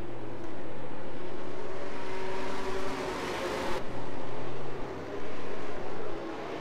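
Loud, close roar of several race car engines accelerating together at a restart in an F1 racing game, a sustained dense engine drone with shifting pitch.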